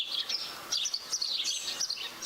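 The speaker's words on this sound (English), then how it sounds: "the chitter-chatter of birds" Birds chirp in a forest in the video game Heart of the Woods, with dripping snow and a breeze. Bright, repeated tweets come in quick bursts throughout over a faint, steady background.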